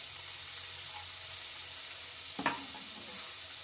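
Ginger, cinnamon and cloves roast in a pan with a soft, steady sizzle, broken by a brief scraping stir near the end; quiet and close, with no talking.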